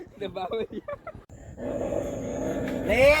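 A dog growls and rumbles while being played with on a farm field, heard after someone talks briefly, with the low growling sustained and rising toward the end.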